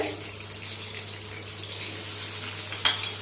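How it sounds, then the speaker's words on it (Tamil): Cloves, cassia bark and cardamom frying in hot oil for chicken gravy make a steady, fairly faint sizzling hiss. A brief clatter comes near the end, and a low constant hum runs underneath. "லவங்கம், ஏலக்காய், இது கொஞ்சம் ஃப்ரை ஆகட்டும்"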